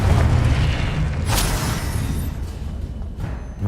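A Confringo spell blast in the Hogwarts Legacy video game: a loud, sustained booming explosion with heavy low rumble, a sharp crack near the middle, and a roar that fades slowly.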